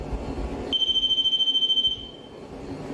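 A single steady electronic beep sounds for over a second against a low background hum, clear and close, during a night investigation in an abandoned village.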